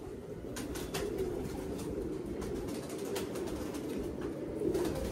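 Pet fancy pigeons coo in a low, steady murmur amid constant broadband hiss and rustling, with no voices present.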